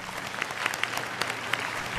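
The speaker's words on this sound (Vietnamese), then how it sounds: "Một tràng pháo tay cho Cao Công Nghĩa và Thiện Nhân." A television studio audience applauds two singers after their duet, a brief, steady wash of many hands clapping with a few crisp individual claps on top.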